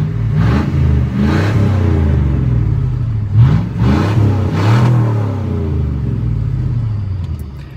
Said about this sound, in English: So I just have the pipe cut right where the muffler was.